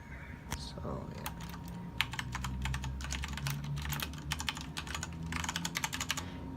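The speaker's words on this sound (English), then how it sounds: "this is how it sounds like when I type it." Typing on a LEOBOG K23 budget mechanical keyboard with red switches, bursts of quick close key clicks in uneven runs with brief pauses between them, over a low background hum.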